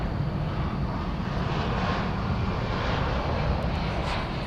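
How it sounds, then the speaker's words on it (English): An incoming UPS cargo airplane roars steadily at night as it approaches DFW airport. The broadband engine rumble stays fairly constant and moderately loud throughout, with no voices over it. "An incoming UPS aeroplane."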